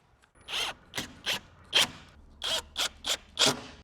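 Screws are driven into an aluminium window jamb, with about eight short, sharp ratcheting bursts from a driver in an irregular rhythm, close and fairly loud.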